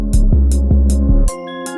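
Trap beat built in FL Studio with deep 808 bass notes that slide and jump upward in pitch, loud and punchy under bright repeating hi-hat or snare hits, alone without talking.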